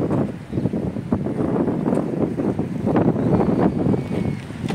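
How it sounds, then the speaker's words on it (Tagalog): Wind buffets the microphone in continuous low rumbling gusts, loud and close throughout, with no voices. "Hangin, lamig."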